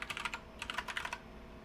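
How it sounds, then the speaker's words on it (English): Quick bursts of computer keyboard typing during a three-node NVIDIA DGX Spark cluster setup, a close, fairly quiet flurry of clicks that stops after about a second, leaving faint room hum. "Is my keyboard like super loud?"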